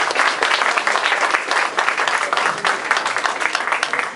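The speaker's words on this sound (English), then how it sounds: "Please, a round of applause for Mrs. Cuccinelli" Audience applause at a Diwali celebration, a dense, steady wash of many hands clapping together, loud and sustained throughout with no talk over it.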